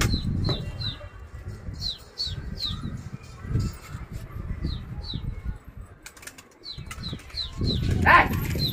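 Pigeons flap up and fly off in several bursts of wingbeats, with faint chirps and coos on and off over low outdoor background rumble.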